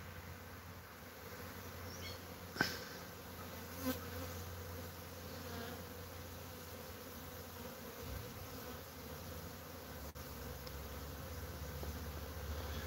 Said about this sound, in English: There's a ton of bees around this box.